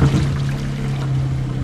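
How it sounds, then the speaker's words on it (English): A toilet with a standard 1.6-gallon flush sends a whole russet potato down the drain, a loud steady rush of swirling water pouring through the bowl for under two seconds with no talking. "we will flush this potato"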